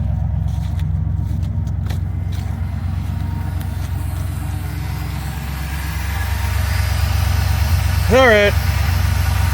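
A 1984 Ford E150 camper van, parked since 2019, idles with a steady low rumble throughout, close by, with a brief spoken word and a short squeak near the end.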